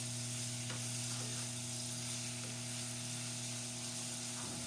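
Meat frying in its own rendered fat until golden brown, a steady close sizzle with a continuous background hum and occasional faint scrapes, no talking.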